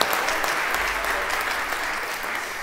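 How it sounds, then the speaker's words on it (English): Steady applause from a church congregation at a traditional worship service, a dense continuous wash of clapping that holds at an even level throughout. "so let's clap for him"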